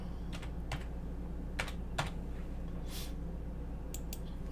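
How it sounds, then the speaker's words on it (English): Keys on a computer keyboard tap in short, quiet bursts as a username is entered, with a few clusters of clicks and pauses over a steady low background hum. "And we'll make their username Tom Henry."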